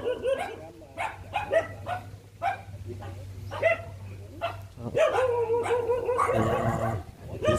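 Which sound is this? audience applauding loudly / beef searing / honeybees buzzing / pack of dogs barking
pack of dogs barking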